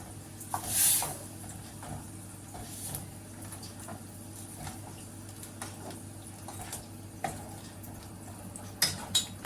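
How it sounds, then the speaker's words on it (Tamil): A spoon stirs black chickpea curry (kondai kadalai kuzhambu) in a cooking pot, making faint, intermittent scrapes and metal clinks close by against quiet kitchen background, with a few sharper knocks at the end. "நல்லா கலந்து விட்டுக்கலாம்."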